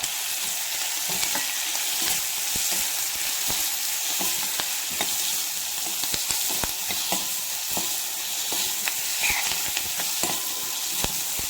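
Onion, green chili, curry leaves and garlic sizzle steadily in hot oil as a tempering for dal rasam, with dense crackling and occasional sharper pops and stirring clicks, close and continuous, with no talking.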